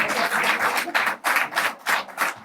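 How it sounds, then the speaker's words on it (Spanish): An audience claps briefly with a dense, uneven patter of hands, loud and close. "Un aplauso espontáneo también de nuestro público."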